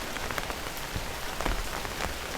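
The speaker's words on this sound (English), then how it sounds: "Only the soft tapping of rain and the distant sound of tires on wet tarmac." Steady rain patters on surfaces outdoors along a quiet residential street, a dense continuous wash of drops with occasional louder splashes and no voices.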